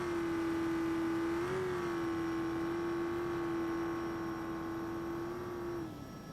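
Off-road race car in BeamNG Baja racing, the engine holding a steady loud drone that dips and rises briefly, then drops off as the throttle lifts near the end.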